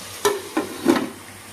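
Chicken cooking in a pan for a Sunday chicken and drumstick curry gives three distinct stirring scrapes with bursts of sizzle, each loud and close, separated by quieter gaps.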